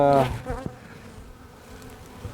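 A brief drone of bees buzzing close by, starting loud and fading to a quieter hum that lingers in the background.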